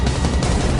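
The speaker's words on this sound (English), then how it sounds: "It must have been an explosion." Explosion sound effect in a documentary, a loud, dense burst of crackling blasts that fills the short moment without any talk.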